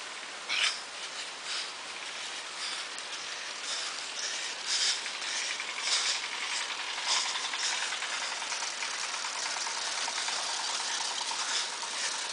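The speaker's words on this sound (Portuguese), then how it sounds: "o barulho do trator" A 4x4 tractor engine runs on soft beach sand at Praia do Flamengo. It is a faint, steady rumble with a light rattle, heard alone beneath a constant hiss of wind.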